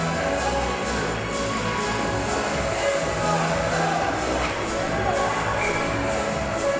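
A crowd at a high school varsity ice hockey game on senior day fills the rink with a steady, dense murmur of chatter and shuffling, broad and continuous throughout.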